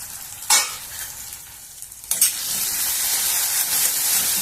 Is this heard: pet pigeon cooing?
no